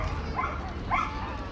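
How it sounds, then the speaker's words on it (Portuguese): Dogs bark and yip at a large fenced dog park where many small dogs play, two short bursts standing out over steady outdoor background noise. "Ó lá, um monte de cachorrinho brincando, passeando."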